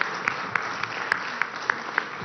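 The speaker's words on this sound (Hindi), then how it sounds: "कोई ताली मार रहे हैं यहां से यार" A small audience at a live discussion event gives sparse, scattered handclaps, about eight separate claps in a short, uneven run over a quiet room hum.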